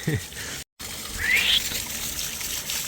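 Drinkable mountain stream water in Norway flows with a continuous rushing, trickling hiss close by, briefly cut out near the start, while a thin whistling tone rises over it.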